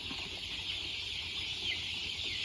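Young Sam Sai chicks chirp and peep in a steady, busy chorus close by, with a soft farmyard hiss beneath and no other sounds standing out.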